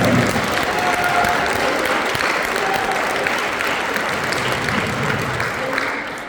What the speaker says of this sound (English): Let's give another round of applause for the combined bands that were on earlier.